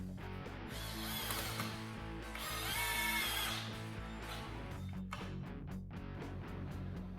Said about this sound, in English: Now we just drive the screws in.